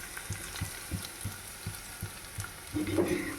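Onions fry in a pan for tomato bath with a steady close sizzle, broken by regular scraping stirs that grow louder toward the end.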